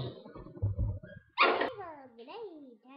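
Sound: dog barking in the room

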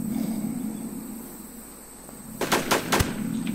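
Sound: gunfire in the video game The War Z

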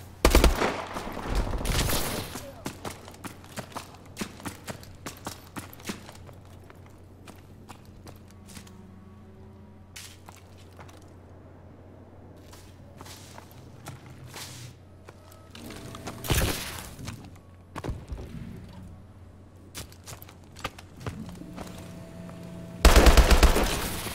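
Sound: gunfire from the video game Call of Duty

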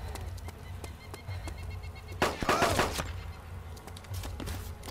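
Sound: gunshots in a video game

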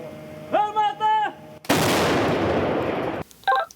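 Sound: artillery fire from Ukrainian Bohdana self-propelled howitzer

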